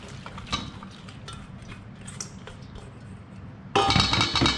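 Sliced cucumber kimchi being mixed by hand with garlic-onion sauce in a bowl: soft wet squelching and occasional clinks against the bowl, ending in a louder burst of sloppy mixing noise.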